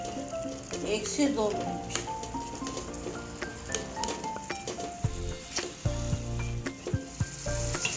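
Garlic and ginger fry in tomato for a Karachi-style butt karahi, a steady sizzle with spoon stirring and pan clinks running under a speaking voice.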